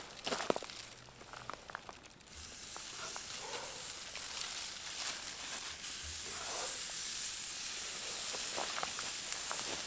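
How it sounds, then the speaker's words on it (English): Corned beef and corn sizzle steadily on a grill at a camp site, a continuous broadband frying hiss that swells after a couple of seconds and stays loud and close to the end, with faint clicks early on. "Well, those are sizzling pretty good."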